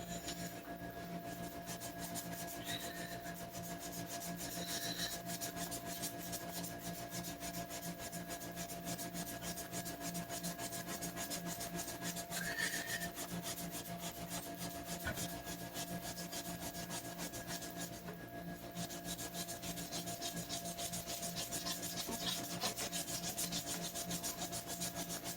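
The frets of a Guild D240E acoustic guitar are polished with 1500 grit abrasive, a continuous fine rubbing that runs steadily for about twenty-five seconds at close range with a faint background hum.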